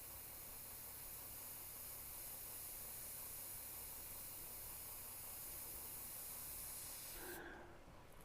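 An airbrush spraying paint while a Harley part is being painted: a steady, fine, faint hiss runs evenly for most of the stretch, then cuts off near the end, with no talk.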